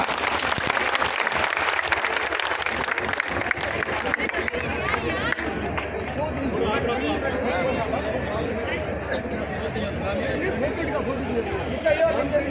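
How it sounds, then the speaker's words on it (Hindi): A crowd at an outdoor political rally in Malkheda breaks into loud, sustained applause mixed with chatter and cheering, fading slowly into a murmuring hubbub of voices. "जोरदार तालियां।"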